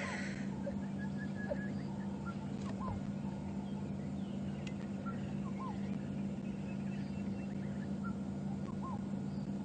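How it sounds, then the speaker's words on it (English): Faint fluting calls of a black-headed oriole repeat now and then from a distance over a steady low engine-like hum. "the bird that is calling in the background that I think you are picking up is the oriole"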